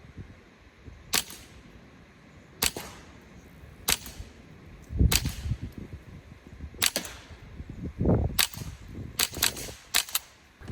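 Suppressed .22LR rounds fired through a 5.56 suppressor, about nine sharp muffled cracks spaced a second or so apart, with light shuffling and handling noise between shots and no talk.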